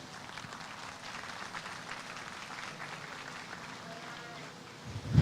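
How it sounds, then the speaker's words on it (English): An audience applauds the first showmanship class at a dairy goat show, scattered clapping mixed with crowd murmur for several seconds before a sudden thump at the end. "Let's give our first class of showmanship a round of applause."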